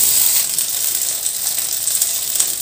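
Milk-dipped eggplant pieces fry in butter in a pan, making a bright, close, continuous hissing sizzle that stays fairly loud throughout.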